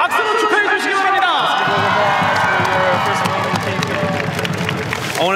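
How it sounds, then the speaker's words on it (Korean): Baseball fans at a KBO game in Korea cheer and applaud to celebrate pitcher Anderson's first league win. The crowd roar swells loudly after an initial shout and holds steady with whoops and clapping throughout. "앤더슨 선수 KBO 첫 승을 박수로 축하해 주시기 바랍니다"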